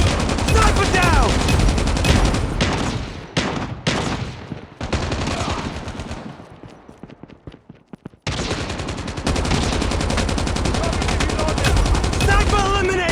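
Sustained machine gun fire in Call of Duty Mobile, loud, dense and rapid, running almost continuously with one brief lull before the bursts resume at full force.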